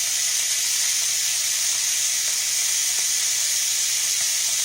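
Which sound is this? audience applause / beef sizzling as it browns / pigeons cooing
beef sizzling as it browns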